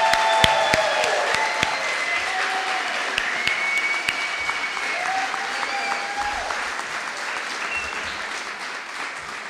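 A seated audience at an honor society induction ceremony applauds continuously, a steady dense patter of many hands filling the room, with faint voices and a few sharper claps standing out.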